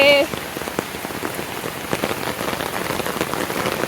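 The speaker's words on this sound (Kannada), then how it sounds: "ಜೋರ್ ಮಳೆ" Heavy rain pours steadily on a village during a festival day, a dense, continuous hiss of drops striking surfaces with scattered louder patters, close and uninterrupted throughout.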